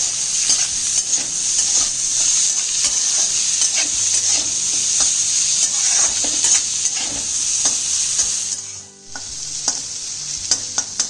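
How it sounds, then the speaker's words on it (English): Chopped onions stir-frying in a pan on high flame, a loud continuous sizzle with frequent scraping stirs and light clinks of the utensil, briefly quieting near the end before resuming. "And stir fry this on high flame for literally a minute or so."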